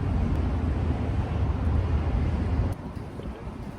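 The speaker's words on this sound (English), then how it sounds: "It's starting to get windy out here." Steady low rumble of wind buffeting outdoors, dropping somewhat in strength toward the end; no talking.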